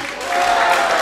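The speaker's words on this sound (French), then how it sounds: "On applaudit Francis Herbert, le candidat numéro 7" An audience at a singing contest during a festival applauds a contestant, producing a brief, steady burst of clapping from a crowd nearby.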